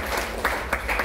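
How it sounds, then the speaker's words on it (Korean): Brief burst of audience applause at a ceremony at the Korean National Assembly, dense clapping from a crowd with a voice faintly over it. "두 분 경례 박수 감사 박수를 주셔서 고맙겠습니다."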